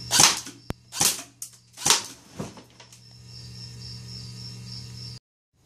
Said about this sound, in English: we'll take 3 shots to the isolation zone, and the target will drop